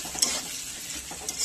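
Peanuts and a mixture stirred in a hot pan, a steady frying sizzle with a few scraping strokes of the spoon, close and alone without talk.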